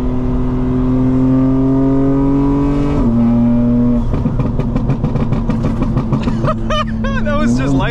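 A Stage 2 tuned 2025 BMW M4 Competition xDrive runs its engine under boost, holding a loud steady drone, dipping briefly at a shift, then rising again. Voices are heard over the engine toward the end.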